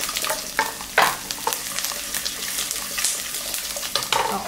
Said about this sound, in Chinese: 你可以先爆香姜跟蒜，因为这个比较大的东西要爆比较久